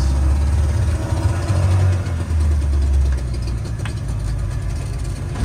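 A homemade pirate ship boat's engine runs steadily nearby, a loud low rumbling chug that continues throughout without pause.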